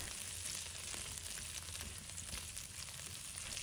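Sausage slices stir-fry in a hot wok with a continuous, dense sizzle and crackle of oil, steady and fairly close, with no voices.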